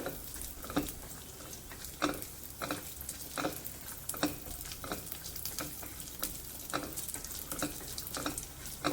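Steady sizzling of cashews and raisins frying in hot ghee, with repeated scraping and clinking of a spoon stirring the pan, no voices.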